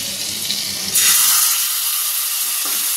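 Marinated chicken pieces for kebab sizzle in a pan as butter is added, giving a steady frying hiss that swells louder about a second in and then holds, with no voices.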